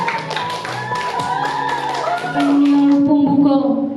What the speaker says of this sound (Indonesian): Kita berikan aplaus kepada saya Rifin.